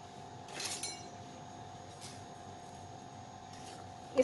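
Cream and egg mixture for coffee-flavoured crème brûlée being stirred in a bowl, giving a few faint, sparse clinks of utensil against the bowl over a quiet background.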